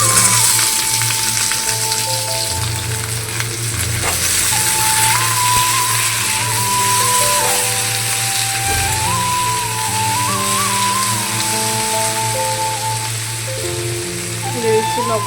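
Chopped potatoes added to half-fried onions in a pan give a steady, loud broadband sizzle throughout, with a voice talking in Bengali over the frying.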